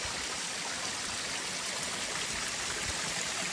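A mountain stream runs down a hiking trail on the Appalachian Trail in New Hampshire after heavy overnight rain, a steady close rushing of water with no other sounds.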